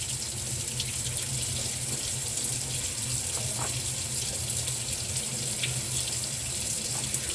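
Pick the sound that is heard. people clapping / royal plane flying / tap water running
tap water running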